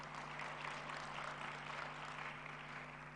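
Conference audience at a plenary session applauding the incoming moderator, a steady wash of clapping held at an even level over a low constant hum, fairly faint and distant.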